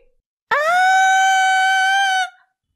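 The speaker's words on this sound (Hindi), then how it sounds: "घबरा कर जोर से चीखती है" A woman in a Hindi drama lets out one loud, sustained high-pitched scream of fright lasting nearly two seconds, rising sharply and cutting off, alone against silence.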